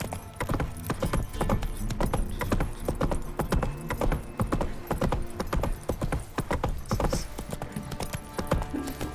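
A horse trotting in The Witcher 3, with rapid, even clip-clop hoofbeats at close range and a faint jingle of tack running through the whole stretch.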